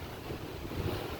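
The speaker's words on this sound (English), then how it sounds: "it's a little windy where I am, so forgive me if you can't hear too well" Gusty wind buffets the microphone outdoors on an early morning walk, a steady low rumble with no speech.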